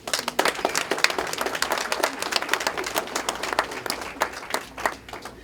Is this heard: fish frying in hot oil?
no